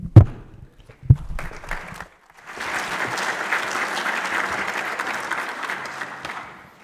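An audience at the opening of a biosafety conference in Hungary breaks into steady, sustained applause after a few thumps and microphone bumps, clapping filling the hall for several seconds.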